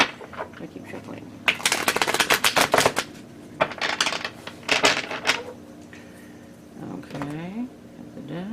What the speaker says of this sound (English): I keep shuffling.